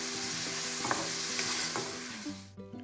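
Chopped onions sizzle in hot oil with popping mustard seeds in a pan over a medium flame, a steady close frying hiss with light crackles and a stirring scrape before it cuts off.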